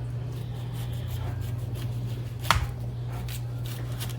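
A knife cuts through food on a board during Chicken Alfredo prep. One crisp, sharp chop lands midway amid faint scraping, all over a steady low electrical hum.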